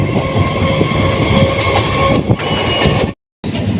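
Haldia Fast EMU local train rumbling along the rails on a Howrah–Tamluk run, a steady loud clatter with wheel clicks and a brief total dropout near the end before the running noise resumes.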